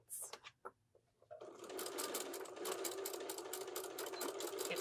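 Sewing machine stitching the edge of a zippered pillow, with a few quiet clicks and handling noises, then a steady rapid mechanical rattle of stitching that runs close and fairly quiet to the end.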